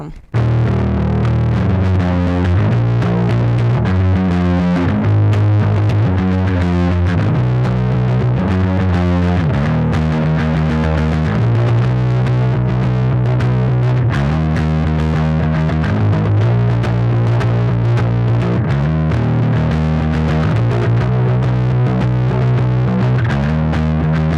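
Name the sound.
distorted electric guitar riff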